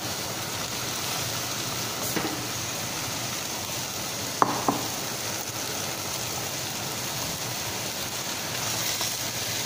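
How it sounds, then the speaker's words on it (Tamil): Brinjal frying in a pan with sautéed onion and tomato for kara kuzhambu, a steady close sizzle with a couple of brief utensil knocks, no voices. "இப்போ கத்திரிக்காயை போடுறேன்."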